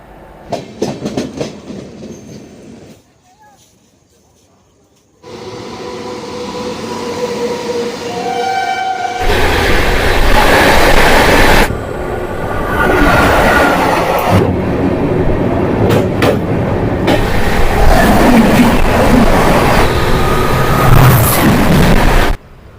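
A Lalkuan–Amritsar Express train running, with a loud, steady rumble and rattle of rolling carriages that sustains for most of the stretch after a brief quiet gap near the start.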